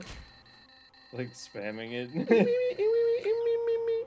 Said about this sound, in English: Oh, that's my phone, sorry.